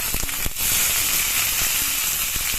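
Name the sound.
green chillies sizzling in hot oil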